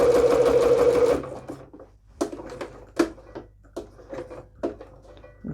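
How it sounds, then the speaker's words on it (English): A sewing machine stitches a short diagonal line into a bias binding corner with a fast buzzing run that stops abruptly, then scattered clicks and taps as the presser foot lifts and the fabric is turned. "turn your fabric and sew a line like that, a little diagonal line at a 45-degree angle right into the"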